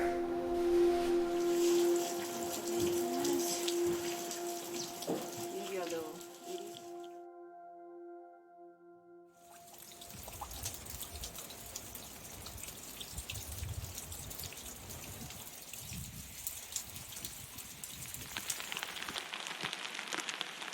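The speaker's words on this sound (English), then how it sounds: "Like it's raining harder." Rain falls at Lake Mackenzie Hut on the Routeburn Track in New Zealand, a steady patter and drip against surfaces that briefly fades before returning at full strength.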